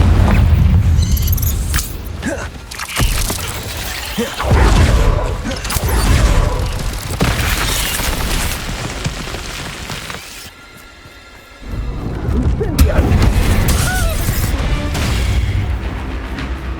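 Confringo blasting spell explosions in Hogwarts Legacy: heavy booming blasts and crashing impacts in dense succession, loud and close, with a brief lull before the rumbling bursts resume.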